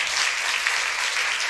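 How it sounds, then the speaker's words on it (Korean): Congregation in a church clapping together during a Sunday service, a dense, even, fairly loud burst of applause with no pauses. "우리 한별이 내일 군대 간다는 박수 한번 쳐주세요."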